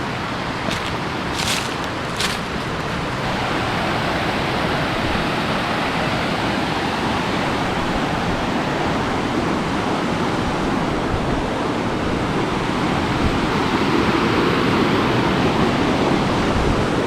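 A forest waterfall near Puttur roars as a steady, loud wash of rushing water that fills the whole stretch, with a few brief sharp knocks near the start and no voices.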